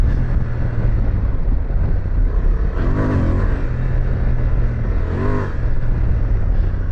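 An adventure motorcycle rides along a road, its engine droning steadily under heavy wind rush, with two brief rises in engine pitch as the rider throttles up.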